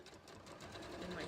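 A sewing machine stitching a shirt collar with a collar stand, a steady close whirring hum running the whole time while someone talks over it.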